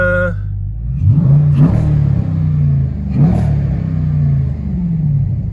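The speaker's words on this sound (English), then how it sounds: "Let's see if I got throttle response here." A Dodge Durango SRT engine with a newly unlocked PCM idles low, then revs up sharply twice in quick blips, each climbing and settling back, loud and close.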